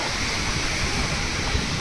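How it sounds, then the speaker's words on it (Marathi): Rushing Saraswati River water roars steadily and broadband at Bhim Pul near Mana village, Uttarakhand, a loud continuous torrent with no voices. "आवाज किती आहे बघा पाण्याचा फोर्स"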